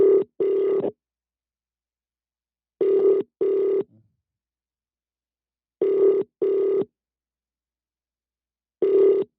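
A telephone rings in repeated double bursts with long silent gaps between, loud and clear, four rings in sequence.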